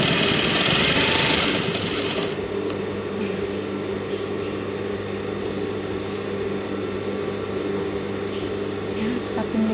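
Sewing machine stitching a shirt collar one millimetre over stiff interfacing, a close, steady mechanical whirr running continuously, louder and brighter for the first two seconds, then settling into an even hum.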